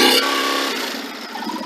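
Ducati Monster 950 (2022) motorcycle engine revving as the throttle opens, a loud nearby roar that fades slightly and settles into a steadier drone.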